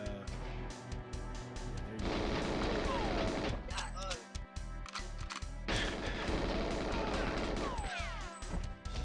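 Gunfire in the GoldenEye N64 video game, emulated on a Raspberry Pi 4, aimed at a lock. The shots land as loud bursts within dense, continuous game music and effects that fill the whole stretch.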